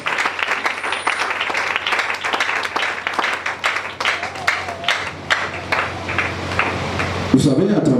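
A church congregation applauds and cheers for several seconds in dense, steady clapping that fills the room, with voices mixed into the crowd noise and a louder shout breaking out near the end.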